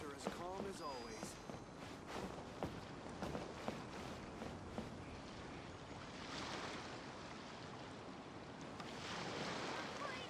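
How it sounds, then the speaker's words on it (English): Ocean waves wash on a shore in the video game Genshin Impact, with a steady, moderately loud surf hiss and wind. A few soft sounds rise over it but no clear speech. "Waves are as calm as always."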